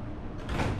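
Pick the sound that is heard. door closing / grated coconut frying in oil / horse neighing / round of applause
door closing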